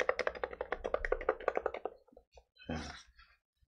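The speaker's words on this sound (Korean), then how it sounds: "일반적인 무접점 키보드고요." Rapid typing on a Hansung GK868B Pro electro-capacitive keyboard, a dense run of soft close taps for about two seconds, then a short burst of speech.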